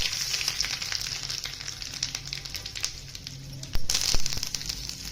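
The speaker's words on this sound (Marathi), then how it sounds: "तेल तापले बघा आता त्याच्यामध्ये एक चमचा मोहरी टाकतो एक चमचा जिरे टाकतो कढीपत्ता टाकतो" Mustard seeds, cumin and curry leaves sizzle and crackle in hot oil while making jowar dhokla tempering, a steady bright frying hiss with scattered pops and a louder burst of spattering near the end.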